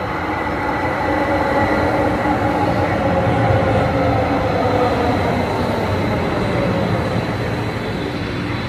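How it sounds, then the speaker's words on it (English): A train rolls steadily along with a loud, continuous rumble and a faint high whine, with no voices heard, in downtown Edmonton at night. "and allow the train to come."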